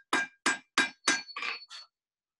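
Hammer blows on hot iron at a blacksmith's anvil, smoothing out hammer marks at below forging heat: four sharp, ringing metallic strikes at a steady rhythm, then two lighter, softer taps, close and clear with no talk.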